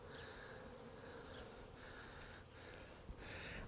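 Honey bees on a hive frame hum in a steady, close drone that runs unbroken throughout, with a faint soft thump near the end.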